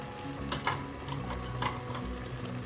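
Fish pieces being stirred into cooking masala in a pan for fish biriyani, with a steady sizzle and scraping, clicking spoon strokes close by.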